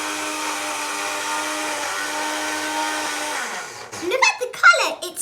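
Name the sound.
blender mixing green pesto with olive oil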